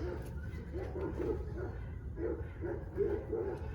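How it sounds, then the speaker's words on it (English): Dogs barking at a distance, a series of muffled woofs in short bursts over steady low background rumble. "Dogs are barking loud over at Lee's"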